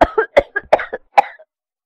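A bout of harsh coughing after choking on water: about seven rough bursts in an uneven rhythm over two seconds, close and fairly loud, tailing off with a weaker final hack.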